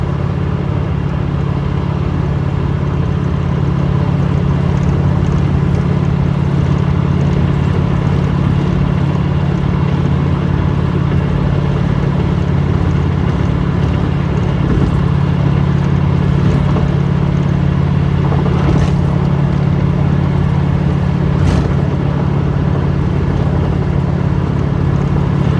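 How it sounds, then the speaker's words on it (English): Cabin noise inside a moving 1985 Corvette: a loud, steady low engine drone with road rumble holds throughout, with a few brief clicks and knocks near the end and no talking. "So that's 1985 technology that you're hearing. Not that quiet, but still one of the quietest vehicles that I have in my fleet."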